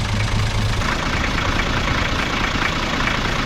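A 1987 Toyota HJ60 diesel engine idling, a steady close rumble with a faint knocking edge that stays even throughout.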